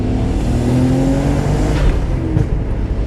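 A Nissan Skyline R32 GTR accelerates hard on an open road, a loud continuous engine roar with rising tones heard from inside the car, a brief pop near the end barely standing out.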